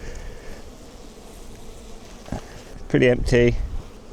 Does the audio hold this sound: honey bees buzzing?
yes